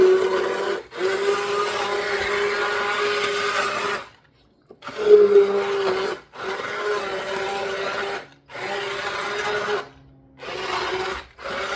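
An immersion blender on a slow setting whirs through asparagus soup in several bursts, each a steady buzzing grind, separated by short pauses of silence.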